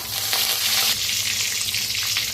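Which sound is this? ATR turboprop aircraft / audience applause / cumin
cumin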